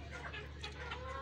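Young chicks from a Mianwali rooster and a Kamalia hen cluck and peep continuously, close by, over a steady low background hum.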